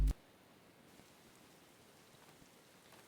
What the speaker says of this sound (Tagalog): Ayan, sumama pa yung ulan.